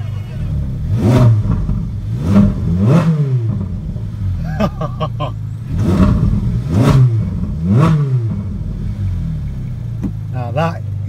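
Supercar engines, among them a Lamborghini Aventador SVJ, Ferrari 458 Speciale and Spider, Mercedes-AMG GT R and McLaren MP4-12C, rev loudly in repeated bursts close by, each blip rising and falling with rumbling idle between.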